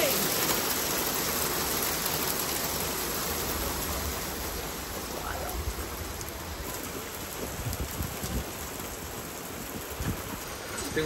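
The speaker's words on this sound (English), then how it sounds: "It's hailing." Hail and rain pouring down in La Spezia, Italy, a dense steady hiss of falling water that stays loud and even throughout, with scattered heavier taps near the end.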